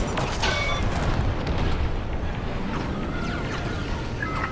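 Space combat in Star Wars Squadrons, with continuous loud rumbling engine noise and dense explosions, plus faint laser-like chirps and whooshes throughout.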